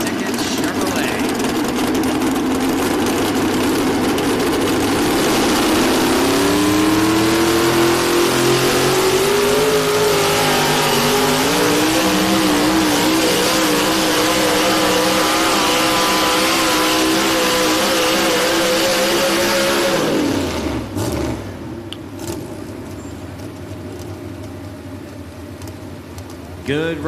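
The Stick It Chevrolet pulling truck roars at a truck and tractor pull, its engine revving hard and climbing in pitch for about twenty seconds before cutting off abruptly, loud and close, with an announcer talking over it.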